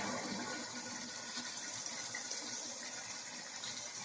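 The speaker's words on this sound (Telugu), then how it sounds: "ఇప్పుడైతే ఇందులో వాటర్ పోస్తానండి" Water pours into a pot of chicken biryani with a continuous, fairly faint rushing gush and no pauses.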